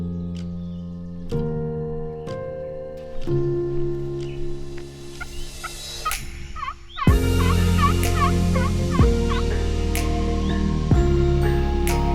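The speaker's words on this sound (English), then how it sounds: "that's like saying hello in baby turkey" Wild turkeys gobble in the outdoors on hunting land, with a series of loud tonal gobbling and yelping calls, some close and some farther off, and no talk.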